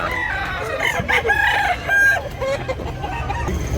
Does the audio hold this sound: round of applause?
no